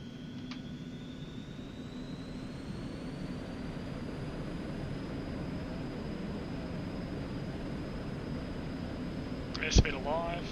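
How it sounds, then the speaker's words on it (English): Airliner takeoff roll in the X-Plane 11 flight simulator, a steady jet engine roar with a slowly rising whine, moderately loud and continuous, ending in a short sharp click-like burst near the end. "runway 8 cleared for takeoff"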